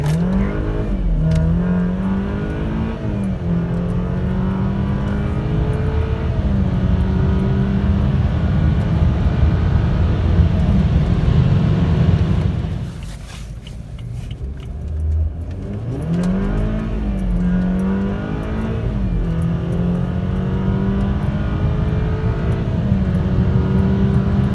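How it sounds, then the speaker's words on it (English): A 2013 BMW 328i automatic with the N20 turbo four-cylinder and bolt-on mods accelerates from a standstill to about 100 mph, its engine rising loudly through the gears with one clear shift pause midway. "It's going to be going from a dig to about 100."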